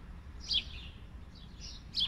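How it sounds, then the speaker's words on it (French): Faint birds chirping in the distance, two short bright bursts of tweets about a second and a half apart over a quiet low background hum. "On entend à peine les oiseaux"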